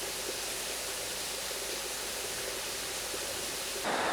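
A river flows steadily in the Ozarks, a broad, constant rush of water that stays close and even throughout, growing slightly brighter and louder in the last moment.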